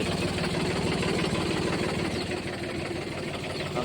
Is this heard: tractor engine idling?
yes